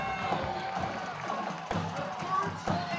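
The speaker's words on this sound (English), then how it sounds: "And this crowd's alive." A high school football crowd at a Springfield vs Winton Woods game cheers in a steady, distant roar from the stands, with an announcer talking over it.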